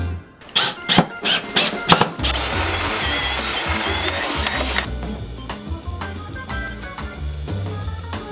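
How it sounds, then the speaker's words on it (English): A power drill drives screws into a reclaimed barnwood farmhouse table, first in a few short, loud bursts and then in one long sustained whir before it tapers off. "I'm going to glue and screw this down and then put a hole through here for it to bolt to."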